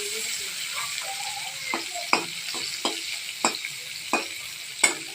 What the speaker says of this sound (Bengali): ওস্তা ভাজাটাও বসিয়ে দিয়েছি